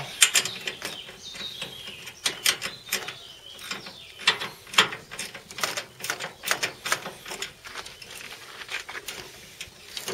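A nut is tightened down over a washer on a diesel RC buggy under repair, giving a rapid, uneven run of close mechanical ratcheting clicks that continues throughout with no voices.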